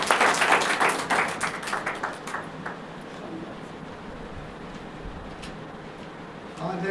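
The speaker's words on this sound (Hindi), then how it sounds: "उनकी उपस्थिति के सम्मान में आप ताली बजाएं" Audience applause at a birth anniversary celebration honoring journalist Ganesh Shankar Vidyarthi, a burst of dense clapping that is loudest at the start, fades over a few seconds, and leaves a quiet room with faint sounds.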